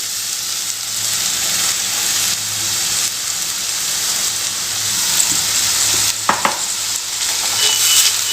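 Chopped banana flower sautéing in oil with a steady, hissing sizzle and occasional stirring, loud and close with a few sharper clinks near the end; no talking.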